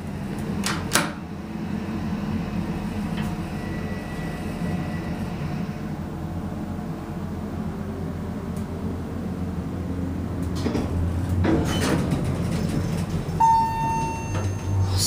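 A Montgomery hydraulic elevator motor in a Sears store runs with a steady low hum and a broad mechanical drone, holding even for the whole stretch, with a few faint knocks and a brief higher tone near the end.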